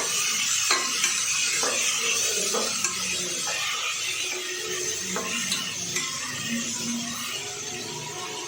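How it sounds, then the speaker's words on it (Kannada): Tomato and fenugreek leaves fry in oil with a steady, loud sizzle throughout, punctuated by regular scraping stirs of a utensil against the pan, close and without talk. "ಫ್ರೈ ಮಾಡಿದ್ಮೇಲೆ ಟೊಮೊಟೊ ಮತ್ತು ಮೆಂತ್ಯ ಸೊಪ್ಪು ಒಟ್ಟಿಗೆ ಹಾಕ್ತಾಯಿದ್ದೀನಿ ಸ್ವಲ್ಪ ಇದು ಎಣ್ಣೆಯಲ್ಲಿ ಚೆನ್ನಾಗಿ ಫ್ರೈ ಆಗಬೇಕು"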